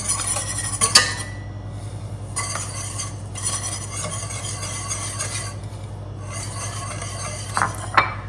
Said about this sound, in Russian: Сюда добавляем сахарный песок и взбиваем.